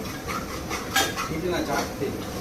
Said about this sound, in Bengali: সুপারম্যান 3টে গ্যাসে একসাথে রান্না করছে।